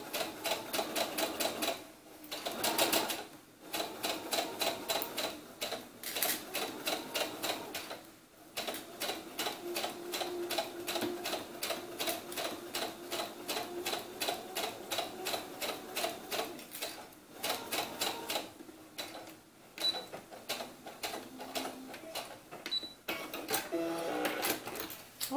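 A sewing machine stitches a doll's blouse, running in long steady buzzing whirs with rapid rhythmic needle ticking, stopping briefly several times before starting again, close and clear with no talk.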